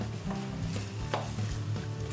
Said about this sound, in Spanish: le añadimos las setas